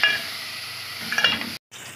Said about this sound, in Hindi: इसके अंदर हम कीमा डाल दें, और इसमें नमक और लाल पिसी हुई मिर्चें डालेंगे, और इसको थोड़ा सा भून लेंगे